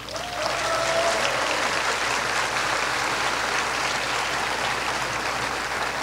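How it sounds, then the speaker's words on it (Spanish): An audience at a science lecture applauds the speaker, a steady dense clapping that starts after a brief pause and carries on evenly, loud and full throughout. "Un fuerte aplauso para la doctora."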